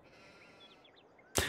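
Sheep in Farming Simulator 22 give faint, thin bleats over a quiet pasture ambience, followed by a sudden louder burst at the end.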